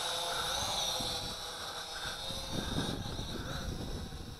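A ZC Toys Z1 toy drone flies outdoors in wind, its propellers giving a steady high-pitched whine that wavers slightly as it is trimmed, fairly close and continuous, with no talking.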